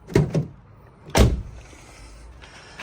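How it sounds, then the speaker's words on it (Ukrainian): A car door latch clicks twice, then a louder clunk as the rear door of an Opel Zafira B with faulty locks swings open, followed by quiet cabin hum. "коли відкриваємо задню дверку"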